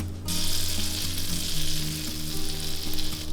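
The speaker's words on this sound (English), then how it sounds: "And then we're gonna saute some garlic." Minced garlic sautéing in melted butter in a skillet over medium-high heat, a loud, continuous sizzle that starts abruptly as it hits the pan, with faint spoon scrapes and tonal kitchen hum underneath.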